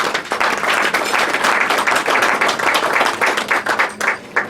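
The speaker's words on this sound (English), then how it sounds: "Please, a round of applause for her." Dense, sustained applause from a dinner audience at a House of Lords conference event, steady crackling hand claps filling the room for several seconds without a break, fading slightly at the end.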